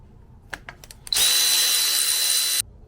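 A power tool spins off engine intake bolts on a Subaru EJ207 engine during a teardown: a few sharp clicks, then one loud, steady high-pitched whir lasting about a second and a half before cutting off.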